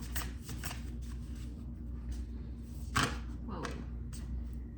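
Tarot cards shuffled and drawn from a deck, with papery riffling flutters followed by a soft slap of a card being placed, close up, with faint low background hum and no clear speech.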